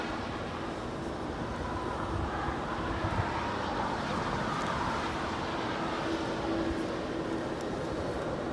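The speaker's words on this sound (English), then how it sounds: "This is Air Canada Flight 792 departing to Toronto in the Star Alliance livery." An Air Canada passenger jet in Star Alliance livery departing LAX: a steady, broadband engine roar holding at an even level throughout, heard from a distance.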